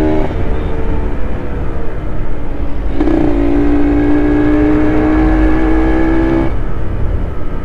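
A Kawasaki Ninja RR motorcycle engine drones while being ridden, with a steady whine that climbs in pitch as the throttle opens midway, then drops back, loud and close amid wind noise.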